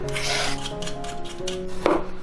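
A knife cuts peeled luffa (sponge gourd) into rolling chunks on a board, giving one sharp, close chop near the end over a faint rubbing backdrop and a steady tonal hum.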